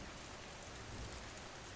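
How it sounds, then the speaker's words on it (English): Steady, even rain falls on a house by the Cape Hatteras lighthouse in 1898, a dense, unbroken hiss with no gaps or single drops standing out. "the rain made its long, even sound"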